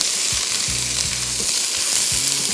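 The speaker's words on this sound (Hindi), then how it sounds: "तो सबसे पहला आ गया गाजर, फिर आ गया शिमला, फिर आ गया स्लाइस किया हुआ हरी मिर्च थोड़ी सी, और इसको थोड़ा सा तेज़ आंच पे किया फ्राई।" Carrot, capsicum and sliced green chili stir-fry over high heat, giving a loud, continuous sizzle close by. Intermittent stirring scrapes and clanks sound through it, and no one speaks.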